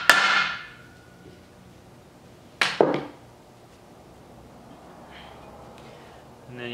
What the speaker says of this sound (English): just tap the edge of the cover with your hammer